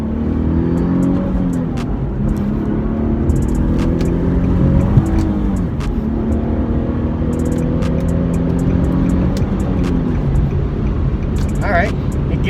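A manual Infiniti G37S convertible coupe accelerates hard onto a highway, its engine note climbing steadily through the gears with brief dips at each shift, loud and close, with a voice speaking over it.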